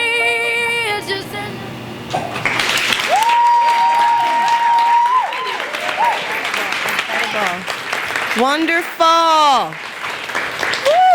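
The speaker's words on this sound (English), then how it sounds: "Please give her another round of applause." Audience applause follows a dance performance at a live event, a steady clatter of clapping under a loud voice, with tonal, music-like sounds and brief cheering-like bursts on top.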